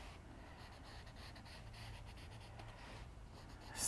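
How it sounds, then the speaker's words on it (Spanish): Pencil scratching and rubbing across paper to sketch wooden planks on a fairy house drawing, a steady soft scratchy texture throughout, close and fairly quiet. "I'm going to use my pencil and kind of make it look like it's made out of"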